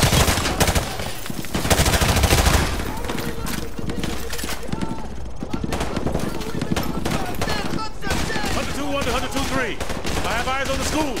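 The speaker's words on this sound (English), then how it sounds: "We are taking heavy fire from the school." Heavy, dense gunfire in a Call of Duty: Modern Warfare 2 campaign battle rattles on without pause, with overlapping automatic bursts and voices shouting through the fighting.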